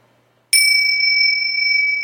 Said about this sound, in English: every time I ring the bell